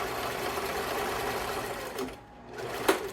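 A sewing machine running a decorative stitch, its steady motor whir and needle chatter close by, briefly easing off near the end before a sharp click.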